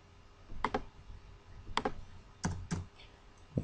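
Typing on a computer keyboard while editing a web page: short bursts of crisp key clicks in small clusters, close and moderately loud, with quiet pauses between them.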